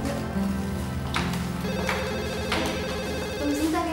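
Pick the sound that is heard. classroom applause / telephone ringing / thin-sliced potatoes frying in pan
telephone ringing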